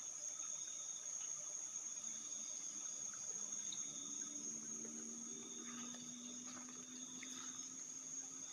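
Water streams steadily through a river's dividing channel in a village, a continuous close rushing wash with no talk.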